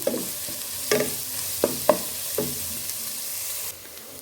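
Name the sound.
onions frying and being stirred in a pan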